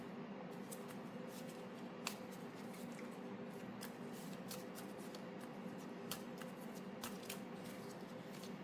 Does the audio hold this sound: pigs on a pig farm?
no